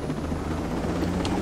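Steady, loud helicopter rotor drone from the Ghost Recon Breakpoint video game, a continuous low thrumming whir holding even throughout with no speech.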